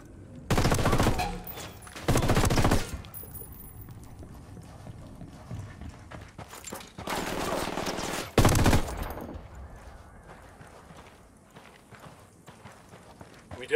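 Gunfire in Ghost Recon Wildlands: loud bursts of rapid automatic fire, two close together early and two more a few seconds later, separated by quieter ambient stretches.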